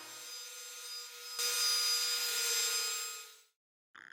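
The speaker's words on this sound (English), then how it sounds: "What I'm doing now is using the router table to make a dovetail housing joint" Router table cutting a dovetail housing joint in wood for trestle table legs, a steady hissing whine that grows louder partway through, then cuts off abruptly, leaving brief silence and a short final noise.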